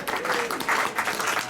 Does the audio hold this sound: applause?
yes